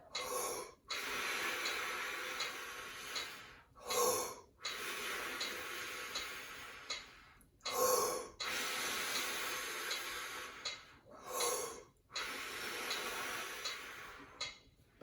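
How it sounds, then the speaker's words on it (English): Rapid rhythmic breathing during a guided breathwork practice, each quick sharp inhale followed by a longer, steady hissing exhale, repeated four times in a close, loud pattern with no talking. "We're breathing in for 1 count and out for 4."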